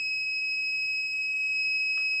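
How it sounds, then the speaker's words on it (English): A 3000W off-grid power inverter sounds its low input voltage alarm as a continuous, steady high-pitched electronic tone that holds without a break, fairly loud and alone, with a faint click near the end. "So the low input voltage alarm, that worked fine."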